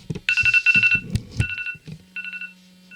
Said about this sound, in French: J'ai mon téléphone qui s'était mis sous une alarme